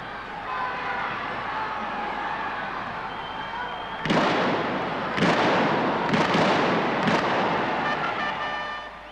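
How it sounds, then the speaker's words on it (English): A field gun at a military tournament fires three rapid, loud booming shots, each with a sharp crack and rumbling tail, over a steady crowd and arena background. "guns are pulled to the line, where 3 rapid shots are then fired."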